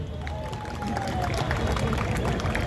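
Applause and crowd noise rise for the Bogura district team at a kabaddi prize-giving ceremony, a dense, steady wash of clapping and murmur that holds throughout.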